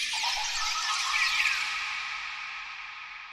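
A plugin's bird-filled jungle ambience with reverb added: a dense, washy bed of chirps that swells and then slowly fades, with no voices.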